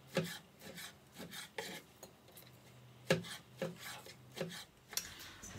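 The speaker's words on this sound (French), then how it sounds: "On va maintenant tailler le saumon ou le poisson que vous désirez" A knife slicing salmon into large cubes for ceviche on a cutting board, giving a series of short, close rasping cuts in an uneven rhythm with brief pauses.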